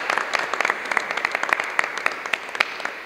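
An audience at a church choir gathering applauding, a fairly close, brisk run of individual claps that stays steady for a few seconds, moderately loud.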